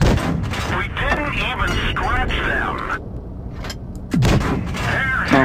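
A K-91 Tier IX tank fires its cannon in World of Tanks Blitz, a heavy boom landing near the end among other distant shots, with someone talking throughout.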